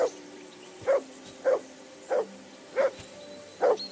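A dog in the video game Kingdom Come: Deliverance II barks six times at a steady, evenly spaced rhythm, fairly close and clear, over a faint low background hum.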